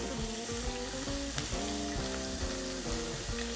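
Kidneys frying quickly in a pan with a clove and garlic, a dense continuous sizzle with crackling pops, plus some faint tonal background sounds, close and steady without any talking.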